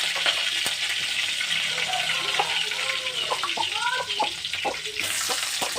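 Curry leaves and mustard seeds fry in hot oil in a pan, a steady close hiss dotted with sharp crackles and pops throughout, no voices.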